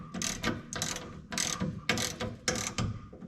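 A hand ratchet clicks in short repeated bursts, about six close strokes, while bolts are snugged down during an Air Lift 5000 air spring install on an older Ford, Chevy or Dodge truck.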